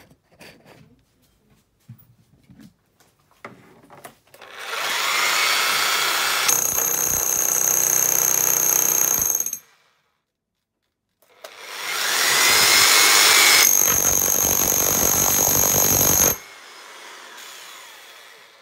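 A Bosch 2895 rotary hammer drill without a bit runs in two loud, steady bursts of about four seconds each, split by a short pause, with a few light handling knocks before them.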